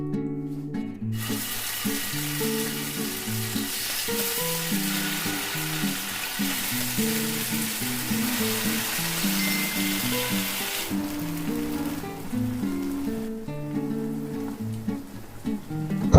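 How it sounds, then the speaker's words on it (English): Fish kabab fries in mustard oil in a pan over a medium flame, a steady close sizzle that runs unbroken for about sixteen seconds, with soft music playing beneath and no talking. "Fry for 3 minutes on medium flame."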